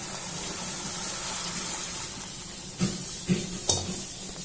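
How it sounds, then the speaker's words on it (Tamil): Dissolved tamarind water is poured into a simmering pot of sundakkai vathal milagu kulambu. A soft, steady watery hiss builds into a few brief splashy gushes near the end. "நம்ம கரைச்சு வச்ச புளிய ஊத்திடலாம்"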